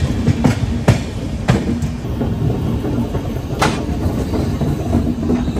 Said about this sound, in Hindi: अभी हमारी ट्रेन पहुंच चुकी है गया जंक्शन